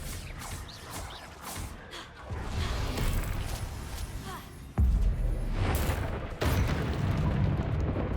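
Confringo fire spell explosions in the video game Hogwarts Legacy, a series of loud booming blasts with crackling, rumbling tails, two sharp heavy hits standing out midway over a dense, continuous battle din.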